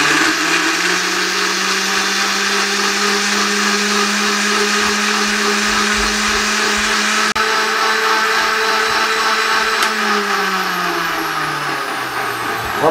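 A blender grinds a mixture, likely lemon juice preparation, with a steady loud motor whir that holds throughout and shifts pitch slightly near the end as the load changes.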